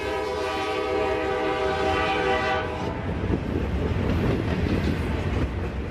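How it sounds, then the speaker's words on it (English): A train sounds a long horn blast as it passes through Waycross, Georgia, then rail cars rumble and clatter steadily along the tracks. "you can hear the trains loud and clear, moving back and forth"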